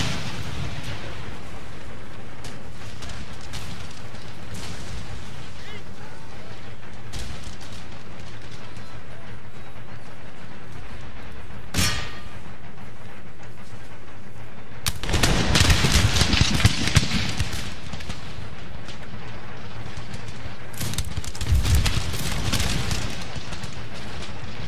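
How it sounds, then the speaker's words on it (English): Cannon and musket fire in a Spanish siege battle from Empire Total War, a steady roar of distant battle noise broken by one sharp crack and then a heavy loud burst of firing, with no speech. "Get those cannons firing."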